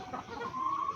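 A roundhead cheater gamefowl chicken in a backyard farm gives a brief cluck that rises into a thin, steady higher call, close and fairly quiet over faint background noise with no voices.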